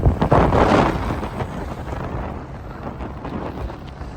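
Strong wind gusts roar across an open rice field being ploughed by tractor, loud buffeting on the microphone that is heaviest at first and then settles into a steady rushing.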